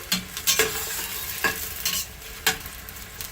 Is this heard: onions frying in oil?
yes